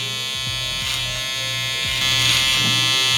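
An electric beard trimmer buzzes loudly and steadily close up as a barber pushes it to cut a sharp beard line, its hum shifting slightly with pressure and no talking.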